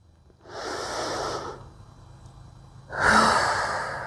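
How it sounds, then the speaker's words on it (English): Two deep breaths during a yoga hip-opening and core session, each a long airy rush through the nose, the second louder and closer, separated by a brief pause. "And we're breathing."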